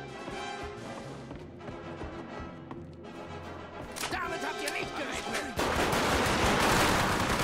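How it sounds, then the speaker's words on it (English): Automatic gunfire from the World War II shooter game Hour of Victory, with MP40 and STG-44 style weapons, rattling in steady bursts over dense game noise and growing louder and more continuous toward the end. "That time he just shot, like, half a magazine in me, and I lived."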